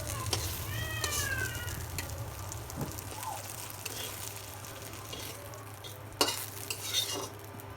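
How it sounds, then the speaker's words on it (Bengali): Eggplant slices fry in a pan of oil with a soft, steady sizzle. Utensils stir and scrape now and then, a cat meows a few times early on, and a sharp clack sounds near the end. "বেগুনটা উল্টায় দিলাম। বেগুন ভাজি হয়ে গেছে"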